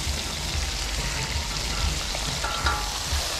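Eggplant being stirred into Thai coconut milk in a cooking pot, giving a steady close sizzle and bubbling hiss with a few soft spoon clacks, and no voices.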